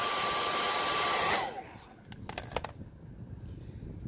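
Heat gun blowing hot air onto vinyl wrap on a rusty rear bumper, a loud steady rushing whir that cuts off after about a second and a half, followed by light handling clicks and rustling.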